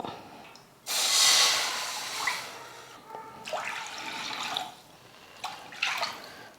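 Water pours steadily into a pan in a few bursts for cooking semolina kesari, splashing and gurgling close by, with short pauses between pours.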